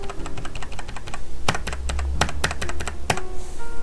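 Keys on a computer keyboard are pressed for shortcuts in Illustrator, with rapid clicks near the mic followed by heavier separate presses with small pauses between them, and no voice.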